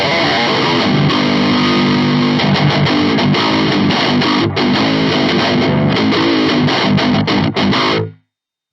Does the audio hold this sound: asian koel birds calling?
no